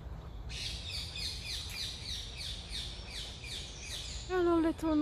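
Birds in María Luisa Park, Seville, give a rapid, evenly repeated series of bright, high chirps, fairly close and clear over soft park ambience, before a voice briefly cuts in at the end.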